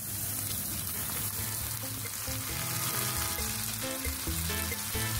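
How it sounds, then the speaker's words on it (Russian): Peeled tomatoes in their own juice going into a hot frying pan with bolognese sauce, giving a steady wet sizzle and bubbling with faint scraping, constant and close throughout. "Добавляем очищенные томаты в собственном соку."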